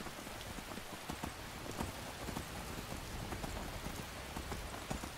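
Steady, even rainfall in the Skyrim video game, a soft, constant hiss of drops with faint pattering throughout and no voices.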